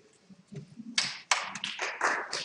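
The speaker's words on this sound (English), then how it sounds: "Well, I see you're clapping" Applause from an audience at a live-streamed talk, starting with a few scattered taps and then breaking into several bright bursts of clapping that swell and fade.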